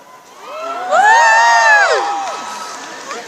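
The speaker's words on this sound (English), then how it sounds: "You're cheering all night" A studio audience cheers and whoops, swelling quickly into a loud, sustained roar of many voices that slowly fades away.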